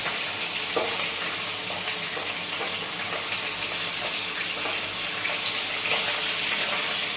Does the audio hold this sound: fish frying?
yes